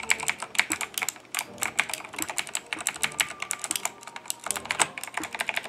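Keys clatter on a Razer computer keyboard in quick, uneven bursts of close, crisp taps and clicks, continuous throughout without any voice.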